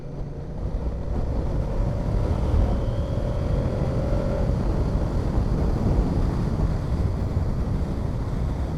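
A 2024 Moto Guzzi V100 Mandello S pulls away from a tractor, its engine note climbing steadily beneath heavy, constant wind roar for the whole stretch.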